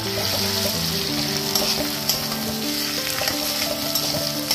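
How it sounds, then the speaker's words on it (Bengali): A couple of spoonfuls of ground spice paste sauté hard in a pan for a fish-head and potato curry. A dense, close sizzle carries scattered stirring clicks and scrapes. "এবার এই মশলাটা এর সাথে খুব ভালো করে কষিয়ে নেব।"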